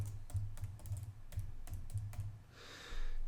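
Keystrokes on a computer keyboard tap out in a quick irregular run of close, crisp clicks, with a brief softer rustle near the end and no talking.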